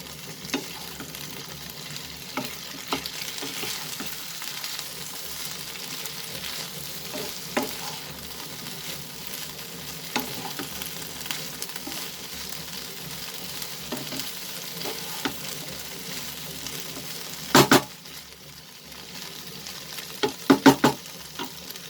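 Broccoli and chicken saute in a pan for a chicken broccoli stir fry, with a steady close sizzle and frying hiss throughout, scattered scrapes and stirring clatter, and a couple of louder utensil knocks near the end.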